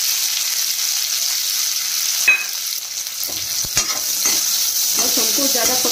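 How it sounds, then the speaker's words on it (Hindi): Finely chopped onion goes into hot mustard oil in a kadai and sizzles loudly, a steady bright hiss with a sharper crackle at the moment it hits the oil and light stirring scrapes afterwards. "तेल मेरा अच्छे से गर्म हो, अब हम इसमें एक प्याज डालेंगे जो बारीक कट कर लिया था।"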